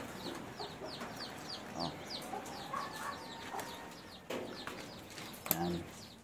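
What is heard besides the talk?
chickens clucking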